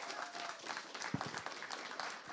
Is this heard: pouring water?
no